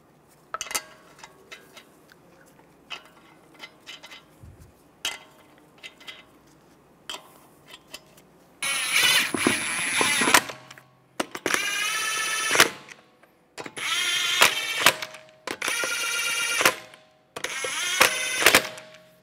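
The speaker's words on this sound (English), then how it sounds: "Now put the wheel on, line it up, get the lug nuts started." A wheel going back onto the front hub of a 2011-2015 Chevrolet Cruze during a brake caliper job, with lug nuts being started: quiet handling clatter at first, then several loud bursts of metallic ratcheting or impact-tool rattling, close and without speech.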